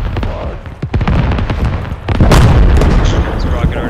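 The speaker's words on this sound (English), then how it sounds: "That's where the rockets landed." Rocket explosions in the video game Squad during a 40v40 US Army combined arms battle: sharp impacts and cracks followed by a heavy rumbling blast that rolls on, mixed with gunfire.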